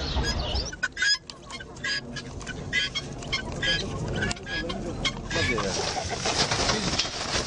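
Caged birds crowd together at the Edirnekapı bird market in Istanbul, a dense, continuous jumble of chirps, clucks and coos from many fowl close by, with occasional voices mixed in.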